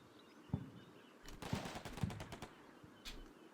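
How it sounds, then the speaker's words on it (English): A machine gun team firing in the Combat Mission: Black Sea war game, quiet, distant bursts of rapid automatic fire in short clusters, with a few separate sharp cracks between them. "MG team's opening up"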